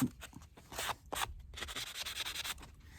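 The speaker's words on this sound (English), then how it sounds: "the best way to remove the glue, the hot glue, is with a sander that I got from Dollar Tree" A small Dollar Tree hand sander grinding dried hot glue off a craft piece, close up, in short, uneven scratchy bursts with brief pauses between passes, no voices.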